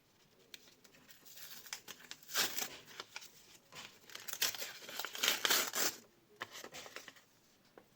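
Crisp crinkling and rustling of a paper packet being handled and opened, in irregular bursts that swell and fade, close and fairly quiet.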